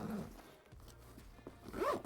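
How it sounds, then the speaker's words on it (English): A zipper on a Nelson Rigg dual sport motorcycle saddlebag is drawn closed, a quick close rasping pull ending in a brighter zip at the finish. "So I'll zip that back up real quick."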